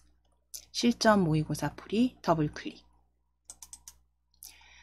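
A computer mouse double-clicks during Korean word-processor exam practice, giving a few faint, quick clicks after a stretch of close speech.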